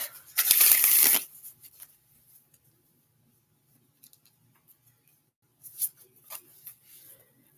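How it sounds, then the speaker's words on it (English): Tarot cards shuffled on a lap: a dense, close riffle burst for about a second, then quiet, followed by a few softer card flicks and rustles near the end. "I'll just shuffle this over here on my lap."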